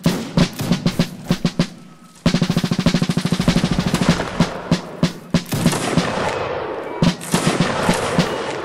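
Dense musket gunfire from a Mount & Blade line battle crackles without letup: rapid, loud volleys of overlapping shots that form sharp rhythmic bursts, then a sustained ragged fusillade with no talking.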